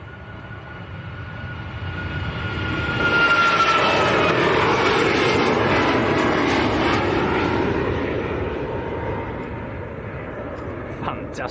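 A Malta Air Boeing 737 MAX jet rotates on its takeoff roll at Leeds Bradford Airport, the engine roar swelling to a loud peak and then slowly fading as the aircraft climbs away, with no talk over it.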